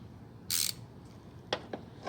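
A ratchet wrench works on 15 mm bolts and a stud nut on a transfer case: one loud, fast burst of ratchet clicking up close, then a few short, sharp clicks spaced apart.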